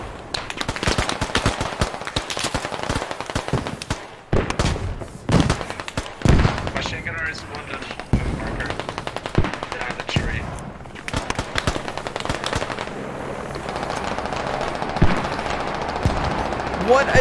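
A SAW light machine gun firing in Squad, a 100-player warfare game: rapid, loud bursts of automatic fire repeat through the scene, with other distant shots and a voice talking over them.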